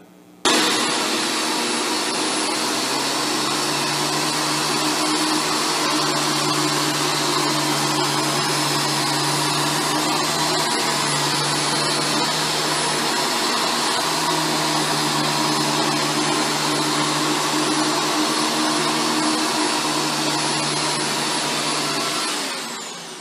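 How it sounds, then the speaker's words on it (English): A Shark Stratos vacuum cleaner runs steadily along a baseboard, sucking up chili flakes. Its loud, continuous motor whine and airflow roar hold for over twenty seconds, with slight shifts in pitch as it moves. "ran the vacuum along it."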